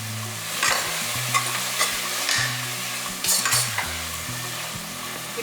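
Mint leaves being tempered and fried in hot oil for mushroom biryani give a steady close sizzle with scraping stirring bursts, over low background music.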